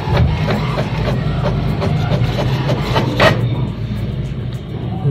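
HP Deskjet Ink Advantage 5075 inkjet printer printing a colour page, a close, loud stream of rhythmic mechanical clicks and rubbing feed sounds with carriage passes, ending in a brief swish as the page comes out.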